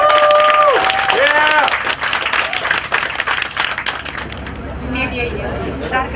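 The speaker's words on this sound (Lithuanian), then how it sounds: "Tai ar galim paploti?" Wedding guests clap for the newlyweds in a dense, steady burst of applause, with crowd chatter and a few whistle-like tones mixed in before it thins out toward the end.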